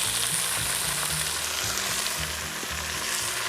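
Chopped garlic and tomato sauté in a hot oiled pan for a home-style chicken curry, a steady close sizzle broken by rhythmic scraping strokes of a stirring spoon, with no voices.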